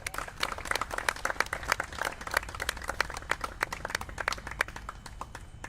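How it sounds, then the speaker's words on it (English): Sustained clapping from the audience for the commander at a Purple Heart Citation of Honor ceremony in Virginia, an even, moderately loud ovation lasting through the whole stretch. "one more round of applause for the commander."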